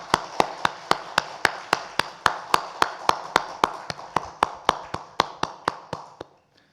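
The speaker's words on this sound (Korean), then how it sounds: "하나님께 영광의 박수 올려드립니다." A church congregation claps in steady unison, about two dozen sharp, evenly spaced claps in a quick rhythm. The claps stay close and clear, then fade at the end, with no talking.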